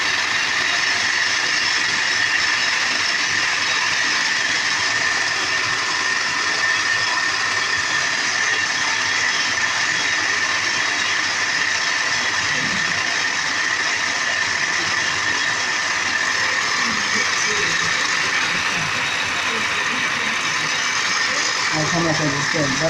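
A homemade jet engine turbine spins freely without being started, giving a steady whirring hum with a high whine throughout and a faint rattle toward the end.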